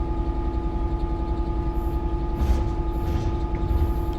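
A Class 66 diesel locomotive in a train simulator game, its engine held at throttle notch 4 with a DRS freight working, giving a steady, heavy low rumble and hum with faint hiss bursts and no talk.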